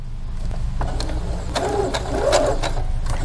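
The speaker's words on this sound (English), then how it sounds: "We're just sewing past our last slit." A sewing machine stitches quilt fabric for a clamshell quilt, a steady close mechanical whir with faint ticking, running continuously and rising slightly toward the end.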